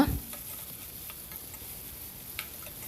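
Onions frying in oil in a pan make a continuous close sizzle, with faint ticks of a spoon stirring and a brief clatter at the very start.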